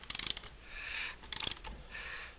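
Socket ratchet wrench turning the crankshaft of a 1980 Triumph TR7 engine during rebuilding, two bursts of quick ratchet clicks separated by smooth whirring of the rotating assembly, close and quiet.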